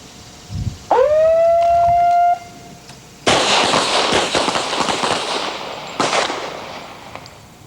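A police academy firing line, where a rising signal whistle sounds first, then a loud burst of overlapping handgun shots crackles out, with another sharp volley following a few seconds later.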